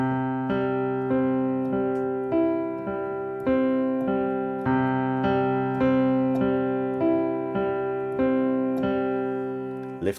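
Piano notes played with the right sustain pedal held down, so each note rings into the next; a slow sequence of struck notes about one per second, blending into a sustained, resonant wash, heard alone.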